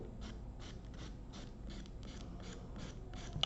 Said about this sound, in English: Long strokes. Use your whole file. Keep off that seam.